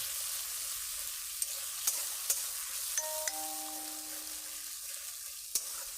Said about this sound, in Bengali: 25 গ্রাম পোস্ত বাটা দিয়ে দিলাম। দিয়ে ভালো করে কষে নিচ্ছি।